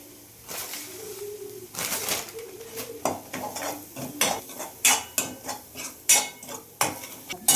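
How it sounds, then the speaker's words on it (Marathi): Masala and poppy seeds are stirred together in a dish with a utensil, giving repeated scraping and clinking strokes that grow louder and more rhythmic toward the end, with no one talking. "मिक्स केलं. मी सगळं मिक्स करायचं."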